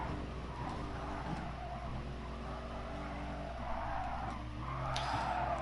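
Tires skid and squeal continuously as a race car oversteers through a corner in a racing video game, steady engine drone underneath.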